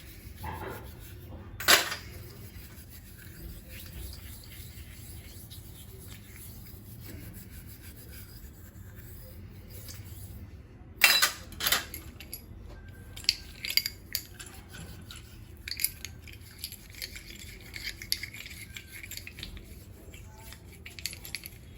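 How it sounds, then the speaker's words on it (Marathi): Brass and copper pots being scrubbed clean by hand, a quiet steady rubbing with a couple of sharp scraping bursts and scattered knocks of metal vessels, no voices. "सगळी भांडी मी तुम्हाला घासून आणि धुवून दाखवते"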